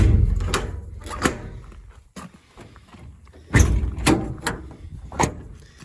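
Drawers in the body of a 2012 Ford F550 truck slide open and shut several times, with rolling rumbles and sharp thuds as they close, fairly close and loud.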